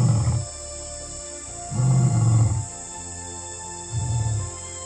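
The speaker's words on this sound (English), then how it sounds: "you could hear the lion roar" A lion roars three times close by at night in the southern Kgalagadi desert, Botswana, deep and rumbling, each call a low throaty burst separated by pauses, with faint insects in the background.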